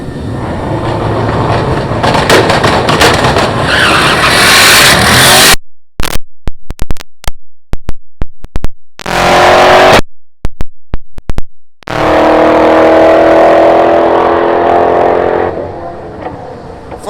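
A Chevrolet C8 Corvette launches hard down a drag strip at TX2K22 with a loud, sustained engine roar. A choppy stretch of rapid bursts follows before the roar swells again as the car runs down the track.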